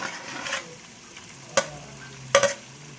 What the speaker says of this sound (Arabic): هننزل بقى دلوقتي باللحمه والليه اللي احنا قطعناها، هننزل اهو بالكميه كلها